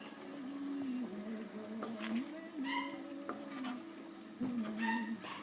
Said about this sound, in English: So give it a good stir like that.